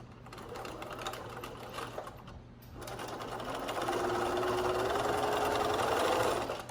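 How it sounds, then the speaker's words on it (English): Steady mechanical whir and rapid stitching rattle of a sewing machine running a French hem seam, starting softly then building into a louder sustained hum with a rising pitch. "I'm gonna run it right back through the machine again, lining it up right again with the presser foot"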